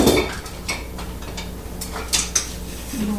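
Kitchen utensils clink and clatter as a small spatula is fetched, a handful of light metallic knocks and rattles close by, with a couple of sharper clinks toward the end and no talking.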